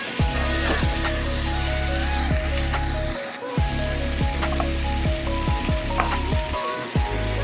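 Oil sizzles steadily in a pan while a utensil scrapes and stirs egg, potato and onion curry at intervals, loud and close, over a constant low hum.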